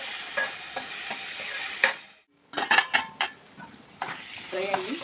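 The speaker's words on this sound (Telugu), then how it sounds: "పెసరపప్పు ఫస్ట్ వేయించుకోవాలండి" Moong dal frying in oil in a pan, with steady sizzling under repeated sharp scrapes and clinks of a spoon stirring against metal, interrupted by one brief silent gap.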